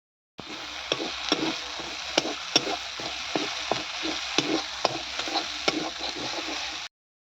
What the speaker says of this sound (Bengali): কপিগুলোকে আমি ভালোভাবে ভেজে নিচ্ছি